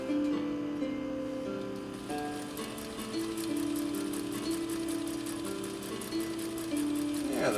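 Japanese Viscount Model 929 sewing machine running steadily while stitching a zigzag, a close, even mechanical whir with rapid repeating needle clatter and a low motor hum throughout, without talk.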